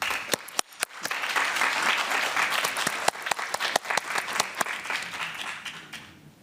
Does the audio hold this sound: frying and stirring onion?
no